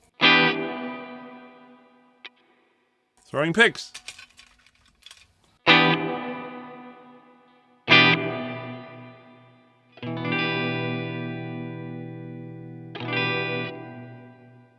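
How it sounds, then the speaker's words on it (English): An electric guitar plays through a Cuvave pedal set to a low-pass filter effect, producing several separate struck chords and notes that ring out and decay, with muffled, swept tones and small gaps of silence between them. "And then what's this one? The low pass filter."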